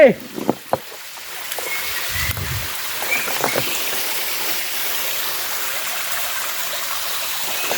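Water rushes steadily at the Sap Sakaeo waterfall, also called Nam Tok Chim Mai, near Ban Khao Phluang in Bueng Sam Phan. The constant broadband roar follows a few sharp knocks and thuds at the start.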